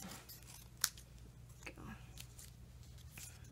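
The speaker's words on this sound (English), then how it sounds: "So I'm going to trim this one up a little bit." Scissors trim paper for a handmade card: a few quiet, separate snips spaced out over a soft background hum, with faint low murmuring nearby.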